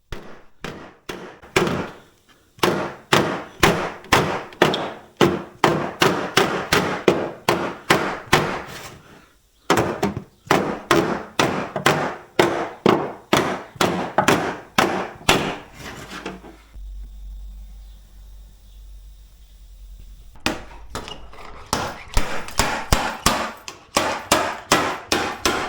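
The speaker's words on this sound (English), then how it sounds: "hitting the front with a flat panel hammer takes the crease out" Rapid, steady blows from a Sykes Pickavant flat panel hammer ring against a BMW 235i's damaged quarter panel over a dolly, in long runs of sharp taps with brief pauses; close and loud, with no talking.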